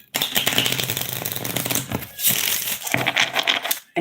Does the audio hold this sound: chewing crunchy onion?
no